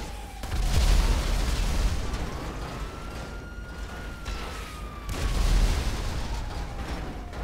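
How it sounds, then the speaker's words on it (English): RPG rocket launcher blasts in GTA V online mayhem: deep booming explosions with heavy low rumble, two louder bursts separated by sustained roar and a rising whine, no talking. "And then I'm going to let loose with the RPG."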